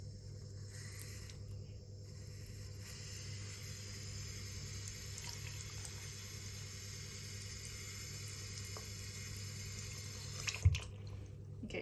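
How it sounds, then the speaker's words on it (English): Cold water from a tap runs in a very slow, thin stream, making a steady, quiet trickle throughout with faint background hum and a small clunk near the end. "we're just going to run the tap with some cold water and just on a very slow stream"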